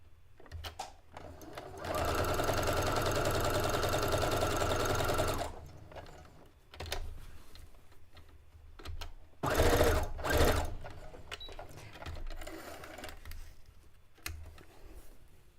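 A sewing machine stitches Legend of Zelda fabric for a drawstring backpack in a steady, loud run of about three seconds, followed by a shorter burst and scattered clicks and handling noises.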